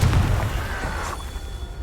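Confringo blasting spell explosion in the Hogwarts Legacy video game, a single deep boom that rolls out and fades over about a second, with no talk.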